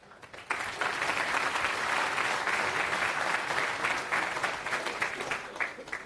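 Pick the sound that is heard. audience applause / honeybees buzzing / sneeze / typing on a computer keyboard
audience applause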